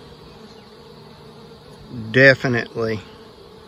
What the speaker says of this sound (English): Bees seem to be running super cool.